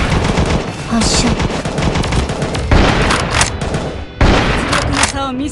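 Rapid gunfire from a Japanese anime-style shooter video game, loud bursts of automatic fire with booms and sharp cracks throughout, continuous and close.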